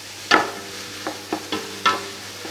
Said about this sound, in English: So I'll just let the onions fry to a golden brown color.